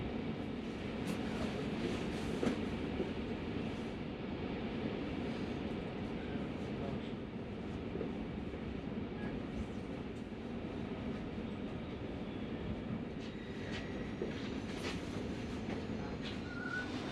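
A French TGV high-speed train approaching a station from inside the carriage, a steady low rumble with faint wheel clicks and occasional squeals, constant and moderately loud throughout.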